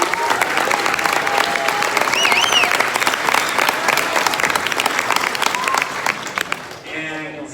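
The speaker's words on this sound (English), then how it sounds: "Round of applause for them for another great convention" A convention audience at a Hot Wheels 2019 sneak peek presentation gives a loud, sustained round of applause for the convention staff, with scattered cheers and whistles inside the dense clapping. It thins and drops off near the end.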